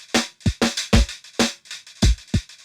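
Drum loop in Logic's Quick Sampler, sped up from 125 to 192 BPM, so kicks and snares come out choppy and rushed in rapid close hits, loud and alone.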